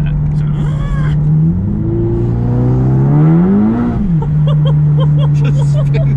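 A tuned 520bhp MK7 Golf GTI holds a steady loud engine note that rises and falls as revs climb with traction control cutting in during wheelspin in third gear, close and continuous, with people talking over it.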